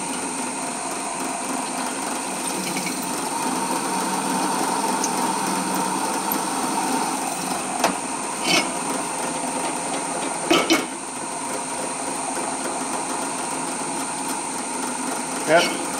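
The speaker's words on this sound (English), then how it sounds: "let's drill it properly" A power drill runs continuously with a steady whine against metal, with a few brief clanks and bumps along the way.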